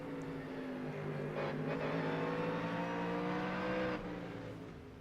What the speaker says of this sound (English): The engine sounds funny.